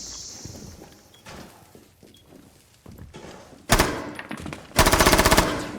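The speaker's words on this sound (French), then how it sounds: "Un échange de balles" Bursts of gunfire in a Rainbow Six Siege match, scattered thumps and clicks building to two loud sustained volleys near the end, close and harsh, no talk.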